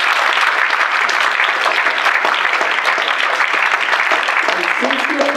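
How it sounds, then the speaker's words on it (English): An audience claps loudly and continuously after a Bharatanatyam arangetram dance performance, a thick, even roar of applause throughout, with a faint voice emerging near the end. "please give them a loud applause."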